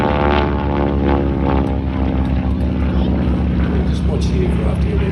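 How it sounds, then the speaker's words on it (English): A big radial engine of over 600 horsepower drives a propeller aircraft through aerobatics over an airshow, droning loud and steady with a deep throb, while a commentator talks over it. "the big radial pumping away there, 600 plus horsepower, comfortably over the top"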